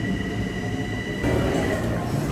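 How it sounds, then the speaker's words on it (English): A subway train runs through a station, with a loud steady rumble and rolling wheel noise and a faint high whine that grows a little louder partway through. "We're back in the subway, guys. And look, we're catching on the 6"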